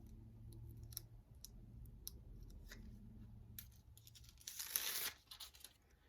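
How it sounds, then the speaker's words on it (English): Paper backing being peeled off fused fabric appliqué pieces for an elephant baby quilt, soft crinkling and small clicks building to one louder tearing rip near the end, close and quiet with no talk. "I'm going to remove the paper."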